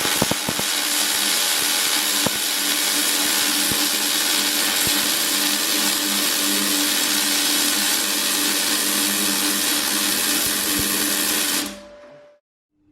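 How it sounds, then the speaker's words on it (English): MIG welder running a bead on steel at a higher power setting, a loud, steady crackling hiss that holds unbroken for about twelve seconds and then cuts off abruptly into quiet. "I want to show you the characteristics of what the sort of weld looks like when you've got a bit more power on"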